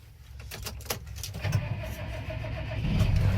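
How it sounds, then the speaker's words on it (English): A John Deere 6215R tractor engine cranks with a few starter clicks, then catches and settles into a steady, loud low rumble that builds slightly toward the end, with no talking. "We're gonna run the baler."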